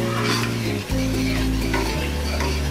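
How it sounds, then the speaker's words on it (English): Chicken biryani rice is stirred in a pot, a continuous close scraping and sizzling with a steady hum running underneath. "let's just stir this up"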